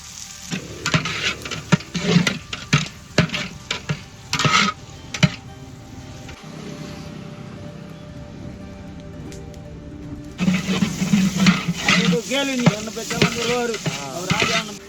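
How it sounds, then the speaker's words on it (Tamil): Seven kilos of onions sizzle and fry in a large pot for beef biryani as a utensil stirs and scrapes through them, loud clattering bursts over a steady frying hiss. "வெங்காயம் நல்லா பொன்னிறமாக வதங்கணுமே."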